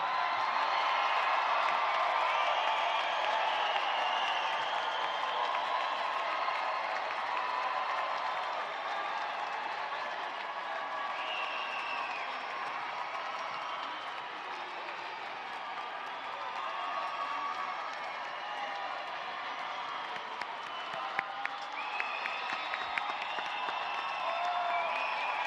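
Graduates at a university commencement ceremony applaud their families, a broad, steady wash of clapping from a large crowd that holds for the full duration with a few faint whoops and some crowd murmur near the end.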